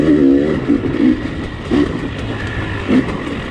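A dirt bike engine downshifts on a practice track, with short revving bursts that blip and drop several times in quick succession over wind and road rumble, heard close from the rider's position.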